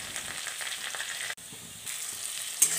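Ginger and asafoetida frying in oil give a continuous quiet sizzle up close, with a brief dip and a small clink near the end.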